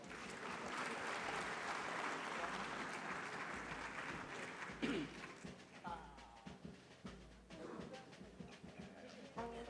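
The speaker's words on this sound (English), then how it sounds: "A warm round of applause, please." Applause from the audience at an Afreximbank annual meeting signing ceremony, a broad steady wash of clapping that holds for several seconds and then thins out, with a voice speaking over the later part.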